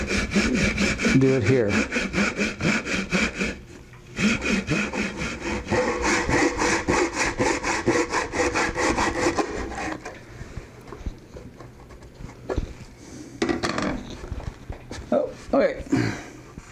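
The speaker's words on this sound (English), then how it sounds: "I'm going to finish it up with a handsaw." Handsaw cutting wood held in a jig at a workbench, a rapid run of rhythmic rasping back-and-forth strokes that later slows into scattered, uneven strokes and handling noises, with someone briefly speaking.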